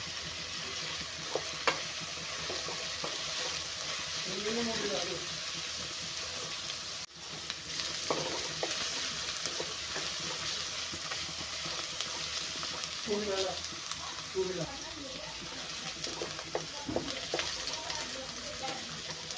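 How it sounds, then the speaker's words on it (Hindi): Noodles stir-frying in a pan over a high flame, giving a continuous loud sizzle with repeated tossing and stirring scrapes, while a voice speaks now and then over the cooking. "ध्यान रहिएगा, हमें इसे हाई फ्लेम में ही फ्राई करना होगा।"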